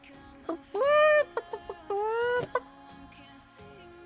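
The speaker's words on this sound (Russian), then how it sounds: "сейчас петуха приведу настоящего" A rooster crows twice in drawn-out, strained calls, with short clucks scattered between and after them, close and fairly loud.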